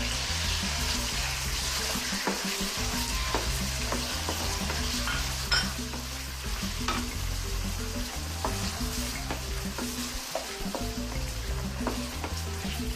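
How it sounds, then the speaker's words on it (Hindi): A cup of boneless chicken fries in a little oil for chicken Manchurian, a steady close sizzle with occasional scraping stirs and clicks, continuous and without talk. "1 कप है बोनलेस चिकन। इसको हम थोड़े सा ऑयल में फ्राई करेंगे।"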